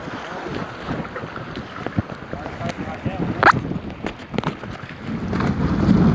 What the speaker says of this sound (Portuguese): Muito vento